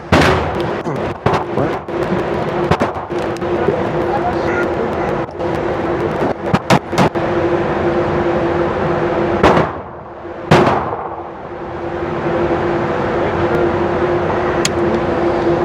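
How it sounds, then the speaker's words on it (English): Staccato pistol fired at an outdoor shooting range: a series of sharp, loud cracks in quick succession early on, then a steady background rumble broken by a couple more bursts. "We'll send it back out to the yards. Do a couple shots there."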